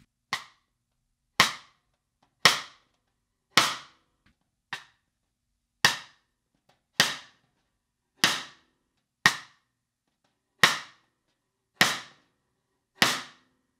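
Cross-stick strokes on a snare drum rim using sticks of different diameters and materials, twelve crisp woody clicks evenly spaced about a second apart, close and clear with silence between each hit.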